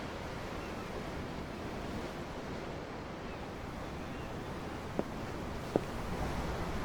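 Ocean waves heard from aboard a ship in the video game Tales of Arise make a steady, soft wash of surf with wind. Two brief faint clicks sound near the end.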